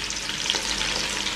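Fish frying in a pan, a loud, dense, continuous hiss of hot oil crackling steadily throughout, close and without any voices.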